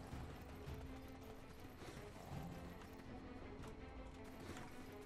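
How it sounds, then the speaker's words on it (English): Horse hooves clip-clop steadily in the video game Black Desert Online, set within a dense, continuous game soundscape at moderate volume. "Let's get to our horse."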